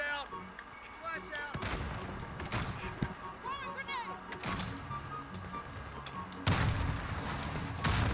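Several sharp blasts from a grenade and weapons in Call of Duty Warzone, loud bursts spaced a second or two apart, with voices talking between them.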